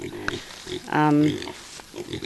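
Pigs on a homestead, newly bought at an auction, give one loud harmonic squeal or grunt midway, with quieter snuffling and faint background noise around it.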